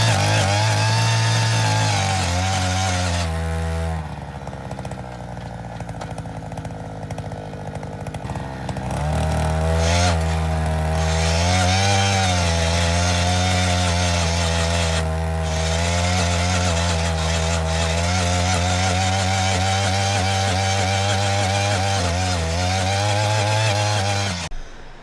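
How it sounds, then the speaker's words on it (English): A powered auger drilling a post hole in garden ground, its engine droning loud and steady close by, dipping briefly in pitch and load partway through, then running hard again until it cuts off at the end. "He's using the auger again to kind of put the hole in"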